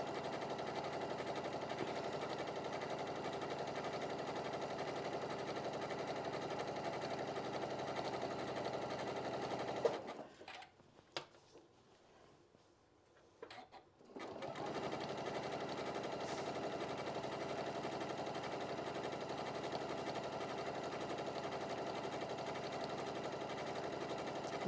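A sewing machine runs steadily as it stitches a decorative wave pattern along the edge of a fabric apron. It whirs continuously, pauses briefly partway through, then resumes its even drone.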